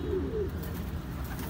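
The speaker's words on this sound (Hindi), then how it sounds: "ये कबूतर है।" Soft, low cooing from a cross-bred home pigeon, a couple of throaty murmurs close by against a steady background hum.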